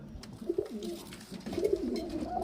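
Highflyer pigeons of the Fulsera line give soft, close, throaty coos in two short bursts, with faint background noise.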